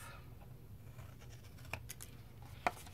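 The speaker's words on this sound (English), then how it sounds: "I'm going to cut up on the score line" Scissors cut along a score line, with faint quiet snips and a couple of sharper clicks over a low background hum.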